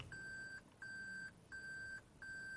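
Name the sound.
beeping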